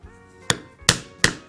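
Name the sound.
punching a hole in leather knife sheath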